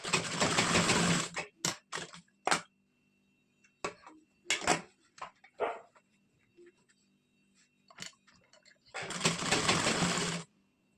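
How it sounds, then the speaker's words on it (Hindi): A sewing machine stitches a three-piece princess-cut blouse, with two sustained runs of stitching at the start and end and scattered short clicks and handling taps between them. "इसके बाद हम यहाँ सिलाई लगाएंगे"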